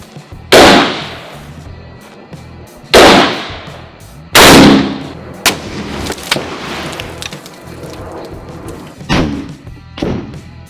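A WW2 rifle fires loud, sharp shots at cinder blocks outdoors, three big cracks with rolling echoes followed by smaller bangs and thuds, no talk.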